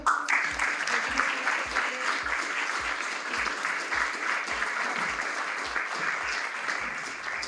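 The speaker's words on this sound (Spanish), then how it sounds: "Un aplauso." Steady applause from an architecture talk audience, dense and sustained throughout, with a repeating low thump pulsing beneath the clapping.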